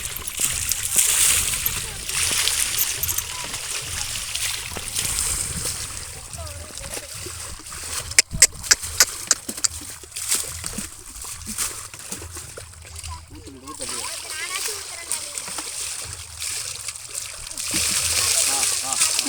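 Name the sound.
water poured and splashed while bathing a cow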